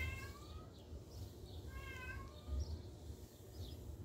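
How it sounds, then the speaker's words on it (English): A cat meows several times in the background, its drawn-out, rising calls repeating through the moment over a low indoor hum, fairly faint and with no one talking. "you might hear my cat sleepy out in the background"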